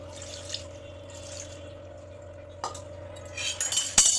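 Water being added to a pan of hilsa fish curry makes a quiet pouring and dripping sound over a low steady hum, followed by louder clinks and a splash near the end.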